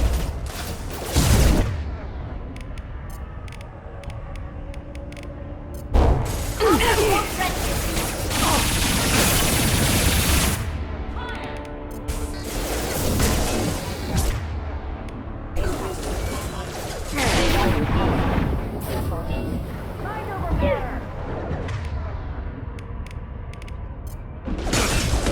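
Gunfire in a combat scene of the video game Mass Effect 2, bursts of loud crackling shots and mechanical clatter separated by short lulls, with occasional voices.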